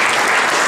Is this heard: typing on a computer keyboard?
no